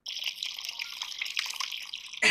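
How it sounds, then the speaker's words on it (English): Blended protein fluid poured onto a cube in the VR game Job Simulator, a steady trickling, splashy liquid stream that runs for about two seconds before ending in a short, louder burst. "Now just pour that blended protein fluid onto the cube"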